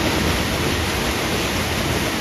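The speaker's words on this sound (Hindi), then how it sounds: "हमारे रूम के बराबर से एक झरना वगैरह है" Steady broadband roar of a waterfall next to a hillside room near Joshimath, Uttarakhand, a constant loud rush with no breaks and no voices.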